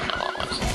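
A horse neighing in the video game Zelda: Twilight Princess, one short, loud, wavering whinny heard alone.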